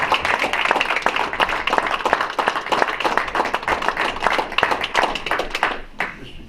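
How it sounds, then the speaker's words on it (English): City council members and attendees at a meeting applauding student musicians, a brisk patter of many individual hand claps in a room that tapers off at the end. "Alderman, let's give these musicians a round of applause."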